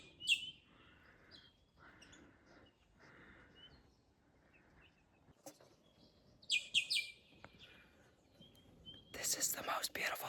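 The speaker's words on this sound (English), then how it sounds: "That was a bird." Birds chirp outdoors in short, high, intermittent bursts, some close and some farther off, while a person whispers quietly in between, ending with a brighter rustling burst.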